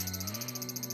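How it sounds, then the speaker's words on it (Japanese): Summer cicadas shrill at a highland park in Shinshu, a continuous buzzing drone with steady rhythmic throbbing pulses, close and with no voices. "そして響き渡るセミの声。"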